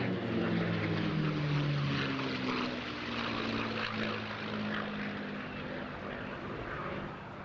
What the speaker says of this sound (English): from the left, please welcome Alistair Williams in the P-51D Mustang